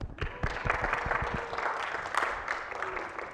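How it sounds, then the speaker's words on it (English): A church congregation at a Sunday morning service claps: a burst of sharp individual claps at first, then a dense, steady patter of applause that carries on to the end. "So you can clap for them all."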